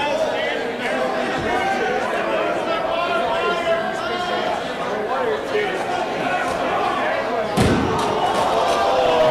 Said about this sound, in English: throwing another chair upon Mandrake